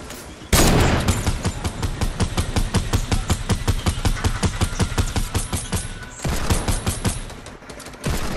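Video game gunfire rattles in rapid, nearly continuous automatic bursts, loud and close, with a brief lull before another sustained volley.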